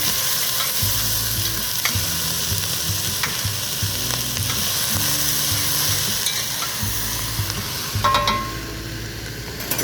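Holy Trinity vegetables of onion, celery and bell pepper sizzle loudly in sunflower oil, a steady hiss over the full length with soft scraping stirs and a sharper burst near the end.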